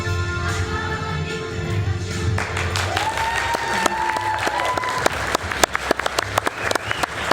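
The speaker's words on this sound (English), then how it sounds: "They clap for you." Audience clapping at a school board meeting for a middle school presentation begins under a sustained tone, then grows into sharp scattered claps that get louder and more distinct toward the end.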